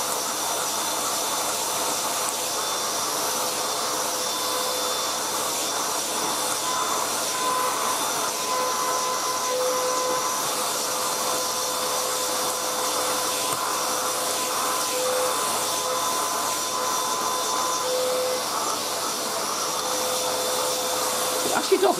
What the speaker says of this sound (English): when you first switch on the vacuum